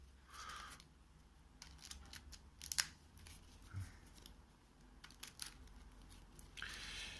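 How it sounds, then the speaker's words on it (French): Marvel Champions game cards are shuffled by hand in a quiet room, giving several short bursts of crisp rustling and snapping separated by brief pauses. "je vais d'abord tout de suite remélanger les cartes"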